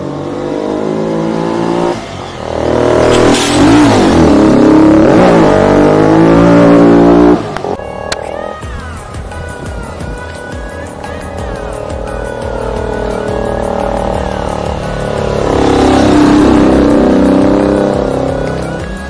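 A nine-year-old customised Bajaj Pulsar 220F motorcycle revs loudly and close, with rising and falling engine pitch in repeated surges, a sharp cutoff midway, then steadier running and another strong rev toward the end.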